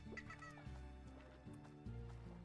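Hens in the video game Slime Rancher give rapid, layered clucks and squawks over a steady synthesized music bed, with no talking.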